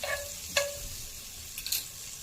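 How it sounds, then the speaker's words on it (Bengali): Butter sizzles in a frying pan with a soft, steady crackle. A few brief scraping clicks of stirring come through close by, and no one speaks. "এরপর একটা ফ্রাইং প্যানে এই যে বাটার দিয়ে দিলাম"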